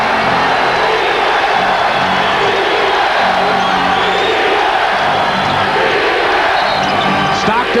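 Packed crowd at a 1998 Western Conference Finals Game 4 basketball game roars late in a close contest, a loud, sustained wash of cheering and whoops filling the arena without letup.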